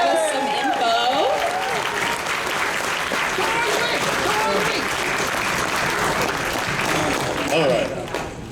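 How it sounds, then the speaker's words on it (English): A crowd at the Everfree Northwest 2024 closing ceremonies applauds to welcome Thornwing to the stage. Loud, dense, sustained clapping mixes with cheers and shouts throughout, then eases slightly near the end. "Give me a big round of applause to welcome Thornwing to the stage"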